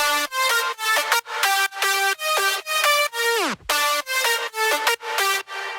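Layered synth lead sounds made in FL Studio for a remake of a song play a bright, bouncy staccato riff of short chopped notes in a steady rhythm, with one quick downward pitch sweep midway, loud and alone.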